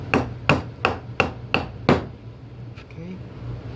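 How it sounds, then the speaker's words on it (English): Six sharp mallet strikes on a chisel cut a through mortise in wood for a patio chair, evenly spaced and close, followed by a fainter knock and a light scrape. "just chisel it out just like that"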